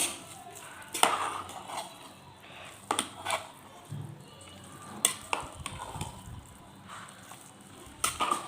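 A spoon works through pongal mixed with ghee-fried cashews and curry leaves, giving soft scattered clicks and wet scraping taps against the pot at a gentle, uneven pace.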